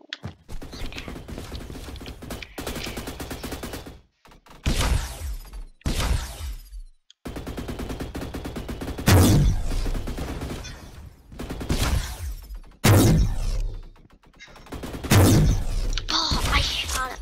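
Video game weapon gunfire rings out in repeated bursts and single loud shots, some rapid and clustered, broken by brief pauses and mechanical clicks, close and dominant throughout.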